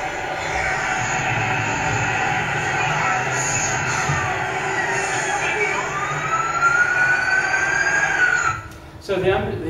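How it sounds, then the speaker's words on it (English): Ambulance siren: a sustained wailing tone sweeping up and down, steady and fairly loud over a low background rumble, cutting off abruptly near the end, with talking over it. "and then they call the ambulance."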